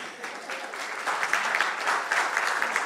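Audience applause at a seminar on coaching in public management, a crowd clapping steadily for a few seconds and growing slightly louder.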